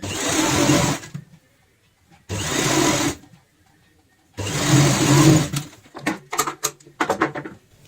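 A sewing machine stitches a homemade fabric handbag in three steady whirring runs of about a second each, separated by silences, followed by a series of quick short bursts and clicks as the fabric is adjusted.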